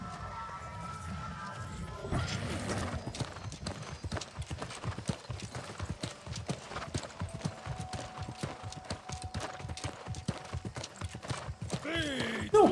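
Horse hooves clip-clop steadily at a walking pace in New World: Aeternum, a close, even rhythm running through the whole stretch, with a brief whinny-like flourish near the end.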